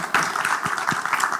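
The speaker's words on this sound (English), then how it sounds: "You can clap." A brief burst of audience applause at a roundtable panel, moderate and fairly dense clapping from a seated crowd, steady for the short moment with no speech over it.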